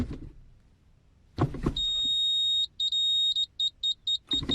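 Echo Master car reversing aid beeper sounding from a small speaker, a steady high tone that breaks into a series of short rapid beeps, fairly loud and close, with handling noises before it.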